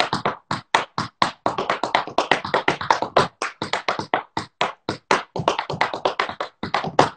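Tap dance steps, including brushes, heels, shuffles and toes, in a fast, continuous run of crisp, close taps with only brief pauses.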